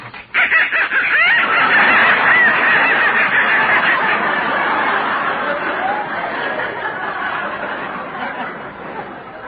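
Live ducks in a basement squawking and quacking loudly and close, a dense continuous burst of calls that tails off slightly, in an old radio broadcast.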